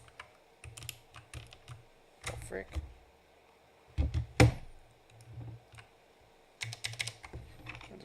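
Bursts of computer keyboard typing come in short irregular clusters, with harder clacks as a bracket key is pressed repeatedly; a voice speaks briefly between the keystrokes.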